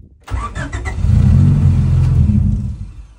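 Honda Civic EG, abandoned for two years, cranks briefly with a few starter whirs, then catches and settles into a loud, close, rumbling rev that holds before easing off.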